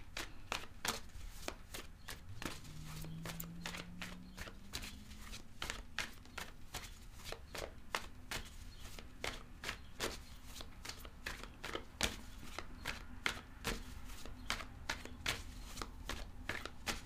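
Tarot cards are shuffled for a reading, making a long run of quick, soft riffling clicks in a steady rhythm. The sound stays close and fairly faint throughout, with no talking.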